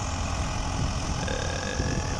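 A 35 kW alternator driven from a Başak 2073 tractor's power take-off runs a 10 hp water pump in a steady, loud engine drone with a dense low rumble and constant mechanical whine, no pauses.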